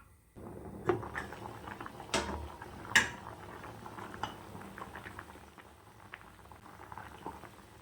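Mutton curry simmering in a covered pot, bubbling softly and steadily at low volume, with a few sharp clinks and knocks of the lid and utensils scattered through.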